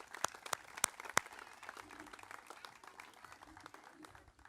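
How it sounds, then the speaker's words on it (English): Small outdoor audience applauding playground donors at a parks and recreation ceremony, with a few sharp, distinct claps up front followed by thinner, quieter scattered clapping and faint murmur. "let's give them a big round of applause"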